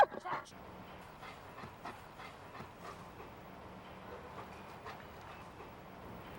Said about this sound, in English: suddenly a dog appears in front of you